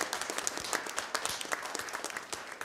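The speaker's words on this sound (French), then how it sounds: "On peut vous applaudir et vous remercier pour votre participation" Moderate audience applause at a small gathering, many hands clapping in a quick, uneven patter that stays steady for the whole stretch, heard at some distance without talk.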